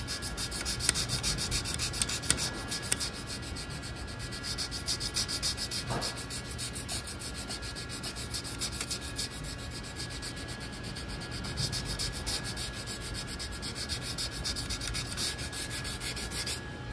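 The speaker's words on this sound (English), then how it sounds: "still running the sanding sponge or block more or less" A sanding sponge rubs along a wooden flintlock rifle stock near the wrist and lock panel, a soft, close, continuous scratchy hiss in repeated strokes, with no voices.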